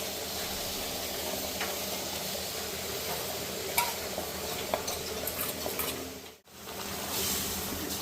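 Hot jaggery syrup is poured and stirred into moong dal powder, producing a constant hissing sizzle with scrapes and small clinks from the utensil, close up, and a brief drop in level near the end.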